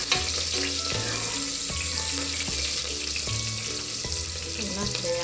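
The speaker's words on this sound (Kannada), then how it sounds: "ಚೆನ್ನಾಗಿ ಫ್ರೈ ಆಗ್ತಾಯಿದೆ." Curry leaves and onion fry in hot oil in a pan for okra sambar, giving a loud, constant sizzle throughout. A background tone with steady, shifting pitches runs underneath.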